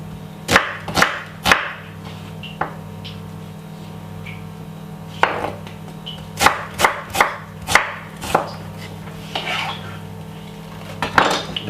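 A knife chops a red onion on a cutting board for a simple homemade salad, giving scattered sharp knocks, some in quick pairs and short bursts, close and fairly loud over a steady low hum.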